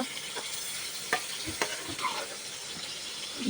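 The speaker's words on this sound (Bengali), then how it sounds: "দেখুন কত সুন্দর দেখা যাচ্ছে আমার পটল ভাজিটা" Sliced pointed gourd (potol) frying in a pan gives a steady close sizzle with occasional soft scrapes and taps as the slices are stirred and turned. Nobody talks.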